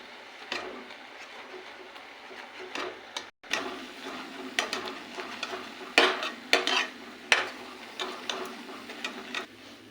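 Boiled mung dal is mashed and stirred in a pan while cooking with a hilsa fish head, producing irregular soft scraping and clinking strokes of a spoon against the metal, moderately close with a faint background hiss.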